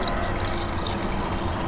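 Wine pours into a carafe at an outdoor barbecue, a brief, steady liquid stream that flows close and unbroken.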